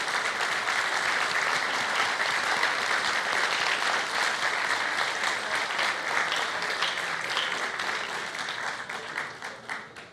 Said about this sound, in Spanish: emos también al doctor Óscar Belloso Medina, que le debemos un gran aplauso.